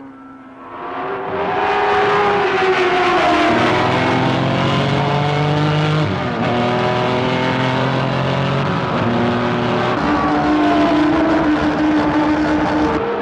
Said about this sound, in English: straight out ahead and into the first bend go Bo Ellington and Lee Leonard